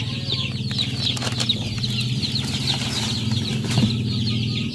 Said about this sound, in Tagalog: Nagugutom na yung ating mga alaga. Pakita natin yung ating mga alagang sisiw.